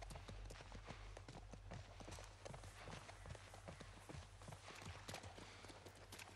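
Horse hooves clip-clop in a steady, quick rhythm as a horse is ridden across terrain in The Last of Us Part 1, the footfalls fairly close over a low background hum.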